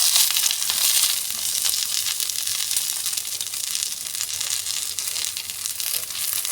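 A turmeric leaf parcel frying in refined oil on a hot tawa gives a loud, continuous close crackling sizzle that holds steady throughout with no talk.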